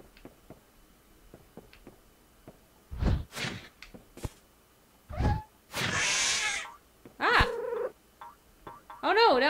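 A cat in the video game Road Not Taken makes short purring and meow-like cries among soft clicks and taps, several brief bursts with quiet gaps between them.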